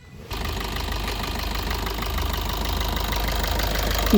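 A 2019 Maruti Baleno diesel engine idles steadily nearby with a rough, knocking clatter after it starts, growing slightly louder over a few seconds.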